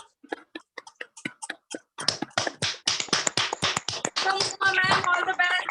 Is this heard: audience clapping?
yes